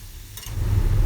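Brinjal and potato masala frying in a pan, stirred with a spoon: a soft scrape, then a steady close sizzle that grows louder and fills the short stretch.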